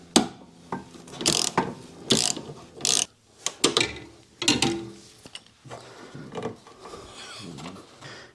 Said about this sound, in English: we're just going to use a long socket with a flex or a wobble extension and just put that in from the side here